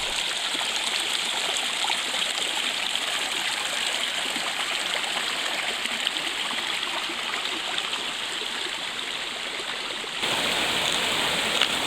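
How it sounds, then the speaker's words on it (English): Water from a brook on a hiking trail rushing over rocks in a steady, hissing broadband flow, close and continuous, with a slight shift in tone near the end. "Got another awesome brook here, which, yes, we will have to cross."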